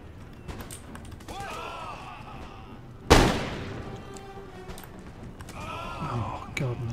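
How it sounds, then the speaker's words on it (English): Musket and artillery fire in an Empire: Total War battle, one sharp loud blast that rings out amid scattered distant shots and battlefield noise, with players talking throughout. "Oh god, and the shots are coming in."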